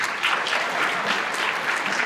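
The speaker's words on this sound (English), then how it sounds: "give Sophia another round of applause for her hard work up here tonight" Audience applause at a senior awards night, a dense steady wash of clapping from a large crowd that holds at an even level throughout with no voices over it.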